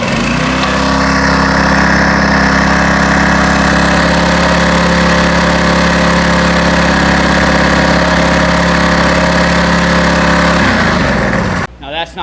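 A Honda GX series small gas engine on a green-rolling machine runs loud and steady at a constant idle with a leaking gas tank, droning close by for about eleven seconds before cutting off abruptly.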